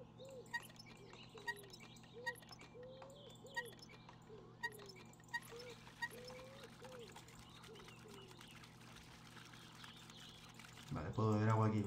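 In the video game My Summer Car, water suddenly gushes loudly for drinking near the end, after a long quiet stretch of outdoor ambience with birds chirping at regular intervals.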